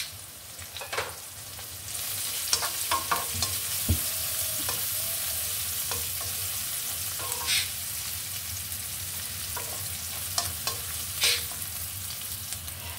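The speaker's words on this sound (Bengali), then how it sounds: "ভাজা বেরেস্তার মতো হয়ে গেছে আমার পেঁয়াজ, রসুন, কাঁচামরিচ" Chopped onion, garlic and green chili fry in a pan with a steady sizzle, broken by scraping stirs and clinks of a spatula, close and fairly quiet.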